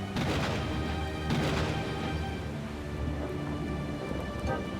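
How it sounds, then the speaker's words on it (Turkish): Heavy rain pours steadily while thunder rumbles low and loud, with a couple of sharper cracks near the start, in a children's cartoon. "Yağmur çok şiddetli yağıyor. Gök gürültüleri her yanı aydınlatıyor."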